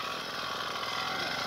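A grass cutter running steadily outdoors, a continuous buzzing engine drone held at an even, loud level throughout with no pauses.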